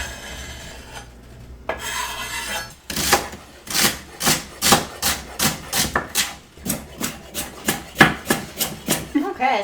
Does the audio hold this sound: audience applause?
no